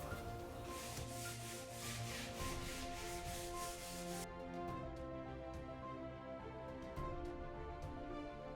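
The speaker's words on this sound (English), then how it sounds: "I'm going to go over this table by hand with 180 grit sandpaper to remove the rest of the stripper" A wooden coffee table is hand sanded with 180 grit sandpaper to remove leftover stripper, producing steady rhythmic back-and-forth rasping strokes, close and continuous, that become lighter and more spaced toward the end, with no talking.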